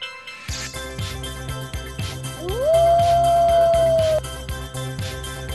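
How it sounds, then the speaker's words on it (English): A single long wolf howl at night rises and then holds steady for a couple of seconds, standing out clearly over rhythmic background music with a steady beat. "the wolves come out to howl."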